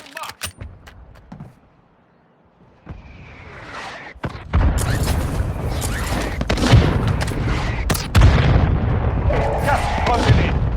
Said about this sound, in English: Friendly mortar strike inbound.